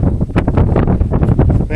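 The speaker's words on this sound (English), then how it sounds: "It's windy." Strong wind buffets the microphone outdoors at a cotton field, a loud, continuous rumbling roar with no pauses.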